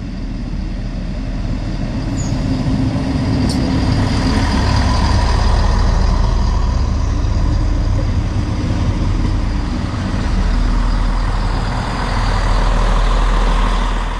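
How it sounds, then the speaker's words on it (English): A Siemens Desiro train pulls into the small platform at Neustadt, a loud, continuous low rumble and rolling rush that swells and eases slightly, with a brief high squeal near the start. "Our train today is a classic Siemens Desiro"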